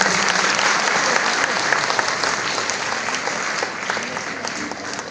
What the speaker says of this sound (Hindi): हाथताली